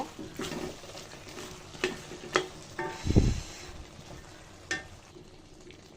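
Chicken-liver bhuna with garam masala stirred in a pan, a quiet sizzle broken by a few sharp spatula scrapes and clinks against the metal and one brief dull knock, close by, with no speech.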